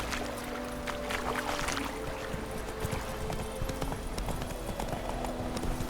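Horse hooves clip-clop in a steady rhythm as a rider travels in The Witcher 3: Wild Hunt, close and continuous, with faint game ambience underneath.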